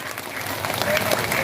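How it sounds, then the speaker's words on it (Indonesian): A crowd at an Islamic religious gathering in Indramayu claps in a brief, lively burst of applause that grows slightly louder toward the end, with faint voices mixed in. "Tepuk tangan dulu dong."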